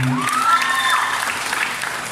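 Crowd applause and noise at a gay beauty pageant in Cabanatuan City, a brief burst of clapping mixed with high excited shouts and whoops from the audience.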